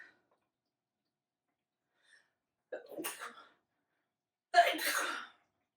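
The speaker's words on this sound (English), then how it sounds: "I really am gonna sneeze." Quiet room, then a short sharp intake followed by two bursts; a close, loud sneeze ends the clip.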